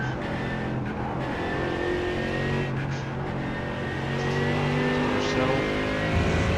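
Mercedes AMG GT3 race car at Spa in iRacing, its engine droning loud and steady with shifting harmonic tones as it accelerates out of a curve under full throttle, with someone talking over it.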